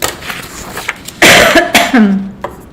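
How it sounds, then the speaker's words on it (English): A few sharp coughs burst out close by, one after another, with short pauses and a low throaty tail on the last. "Forgive my cough, by the way."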